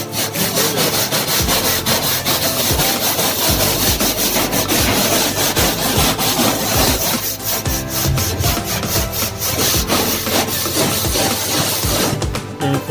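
Wooden flooring inside a food truck gets a hard scrub, a loud, close, rhythmic rasping of brisk back-and-forth strokes that carries on steadily with no voices.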